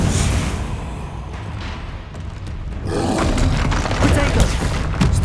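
A Bombarda spell detonates in Hogwarts Legacy: a heavy booming blast that dips briefly, then swells into a louder rumbling roar with crackling debris, close and forceful, with no clear speech.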